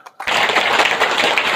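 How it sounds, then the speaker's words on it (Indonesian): An audience applauds at a gathering of the Indonesian Islamic organisation NU, dense and loud clapping that starts suddenly and stays even for over a second. "Tepuk tangan dulu."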